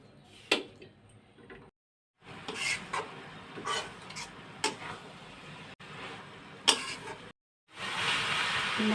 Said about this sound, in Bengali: আমি কিন্তু ঘন ঘন নাড়তে আসছি